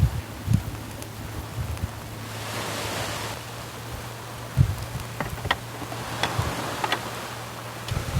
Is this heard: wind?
yes